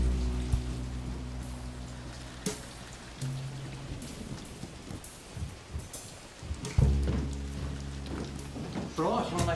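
Rain falls steadily outdoors in the English countryside, a constant patter over low droning tones, with sharper splashy bursts near the end.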